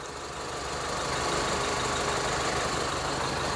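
A 2017 Isuzu D-Max single-cab pickup with a 1.9 diesel engine and manual gearbox idling, a steady close rumble with a faint knocking diesel clatter and no talk over it.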